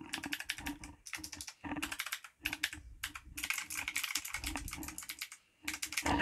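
Fast typing on a Taiahiro retro typewriter-style mechanical keyboard, crisp clacky keystrokes in rapid bursts separated by short pauses, close and clear with no talk.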